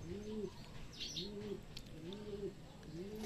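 A racing pigeon coos softly in four evenly spaced, repeated rolling calls, fairly faint against quiet outdoor background, with no talk.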